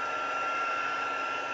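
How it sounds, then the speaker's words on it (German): A hair dryer blows steady hot air to melt embossing powder during a papercraft project, giving a constant, close whooshing hum with a faint high whine and no talking. "sondern bewege den Föhn so ein bisschen"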